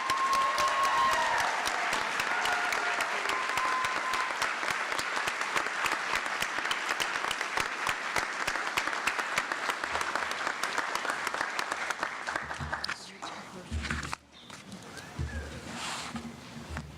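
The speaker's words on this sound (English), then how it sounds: "Please join me in congratulating our DMP graduates with a round of applause." An audience at a university nursing pinning ceremony applauds the graduates, with dense, steady clapping that holds for about twelve seconds before thinning into scattered claps and room noise.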